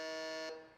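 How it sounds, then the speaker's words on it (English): Quiz game buzzer at a televised rural IT quiz, one loud steady electronic tone held for about half a second, then cut off, leaving a brief fading tail. "on the buzzer"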